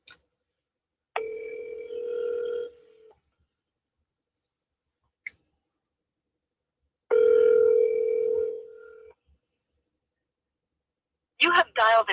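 Steady electronic telephone tones sound during a call, in two sustained bursts of a few seconds each with silence around them. A short burst of voice follows at the end.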